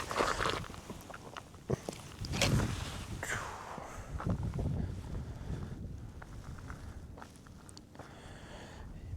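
Gusty wind buffets the microphone in uneven rumbling bursts, with occasional thumps and rustles.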